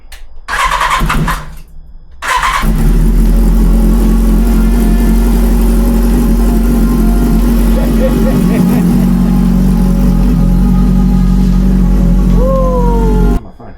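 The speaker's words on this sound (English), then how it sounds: "Will the bike start, or did we just waste our time? Let's try this." A 2013 BMW S1000RR sport motorcycle engine, freshly rebuilt, cranks briefly, then catches and runs loud and steady up close with a rough, buzzing tone, ending in a short rising rev.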